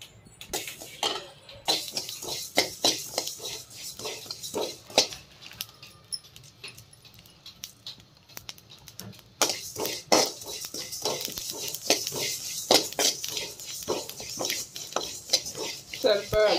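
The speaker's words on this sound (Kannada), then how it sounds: "ಇದು ಉಪ್ಪಿನಕಾಯಿಗೆ ಜೀರಿಗೆನ ಇಷ್ಟ ಹಾಕ್ತಾ ಇದ್ದೀನಿ, ಒಂದು ಸ್ವಲ್ಪ ಬಿಸಿ ಮಾಡ್ಕೋಬೇಕು" Cumin seeds being heated and stirred in a pan for pickle, repeated scraping and clinking of a spoon against the metal pan in irregular rhythm, close and fairly clear, with a pause midway before stirring resumes.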